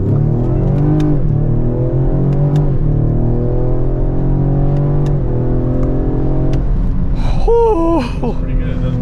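A Ford Explorer ST's engine pulls under throttle from inside the cabin, revving up in repeated rising sweeps as gears change, loud and steady, with people talking and reacting over it toward the end.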